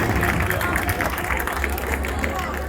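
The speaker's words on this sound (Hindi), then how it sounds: "जोरदार एक मरतबा और तालियां अमरान सर के लिए।" Audience at a college Independence Day celebration clapping for a guest, a dense, steady burst of applause with crowd murmur underneath.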